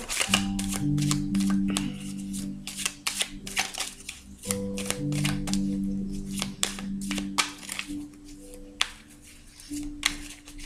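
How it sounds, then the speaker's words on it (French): A deck of oracle cards being shuffled by hand, close up, with repeated riffling and sliding bursts in an uneven rhythm and a faint hum underneath. "Donc, je vais battre les cartes."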